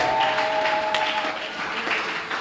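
A church congregation at a Sunday service claps to acclaim the Lord, a moderate, steady patter of many hands with a faint held tone running beneath it early on.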